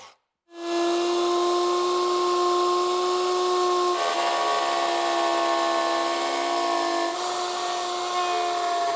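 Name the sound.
router cutting a circle in wood panel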